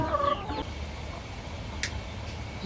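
Laying hens clucking near and fairly steady as they are given water, with a short bright call partway through over a low background rumble.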